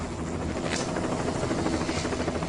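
Helicopter hovering beside 500,000-volt power lines during live-line electrical work, its rotor and engine giving a steady, loud, close chopping roar with no pauses.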